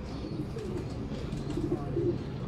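Pigeons coo in a low, soft, repeated murmur amid steady background noise, with a few brief, faint calls rising above the din. The birds are fancy flying pigeons kept for pigeon racing in Sialkot.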